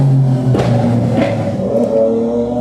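A motorcycle engine revs loudly and close, a continuous throaty roar with quick surges in pitch as the throttle is blipped, filling the whole stretch.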